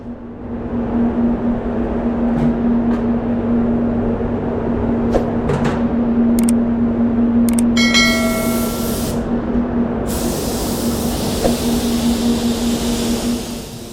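A spray gun applies paint to a vehicle during a two-colour refinish repair, a steady continuous hiss over a low droning hum, with a few brief clicks and a brighter burst of spray near the end.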